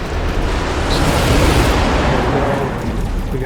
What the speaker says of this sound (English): Incendiary bomb.